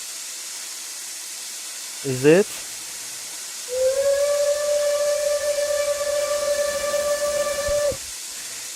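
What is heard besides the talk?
single chime steam whistle of locomotive 2101, RO-Scale video game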